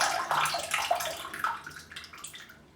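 A Muhle Rocca safety razor is rinsed under a running hot tap during a shave. The splashing stream is near and fairly quiet, broken by uneven spatters and tapering off toward the end.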